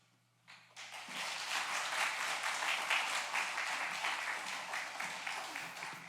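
A church congregation claps loudly for a pastor coming forward at an early-morning prayer service, a dense, sustained wash of applause starting after a brief quiet and holding steady throughout.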